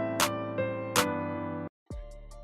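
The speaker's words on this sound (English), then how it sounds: "let's say it's gonna play this clap and it's gonna add an extra one for no reason." An FL Studio trap beat plays with a clap sample whose loop points make it replay, so bright clap hits land over a sustained melodic loop. The loop then cuts out briefly before a low, thinner pattern resumes.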